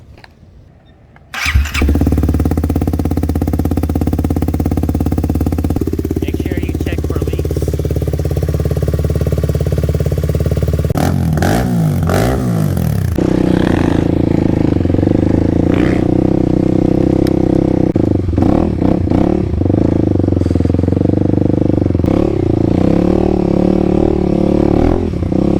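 A 2021 Kawasaki KLX300 dirt bike fitted with a Barker's exhaust cranks and fires up, then idles loudly and steadily up close, with a few blips of the throttle raising the engine note partway through.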